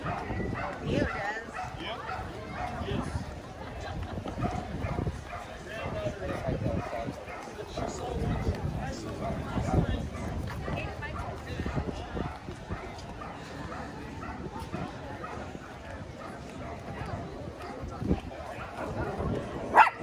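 A dog barks and whimpers outdoors amid the bustle of a village fun-run and vintage car show in Big Bear, the yips mixed into steady crowd noise and nearby voices.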